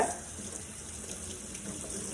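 Water runs steadily from a tap while fish is being washed, a constant close splashing stream with no voices.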